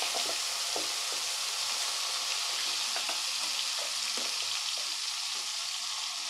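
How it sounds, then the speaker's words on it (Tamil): Ground green chili paste sizzling and frying in hot oil with popped mustard seeds for homemade pickle, a steady close crackle with occasional stirring scrapes, no voices. "பேஸ்ட் ஆட் பண்ணிவிட்டு நல்லா வதக்கி விட்டுக்கிட்டே இருக்கணும்."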